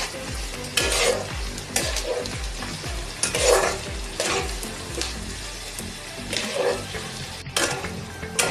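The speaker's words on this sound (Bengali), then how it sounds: "এইভাবে কিছুক্ষণ নেড়ে নেড়ে পেঁয়াজগুলো ভেজে নেব" Chopped onions fry in a pan for a chicken curry, with a continuous sizzle and a spatula scraping and stirring in a regular rhythm about once a second, close and clear.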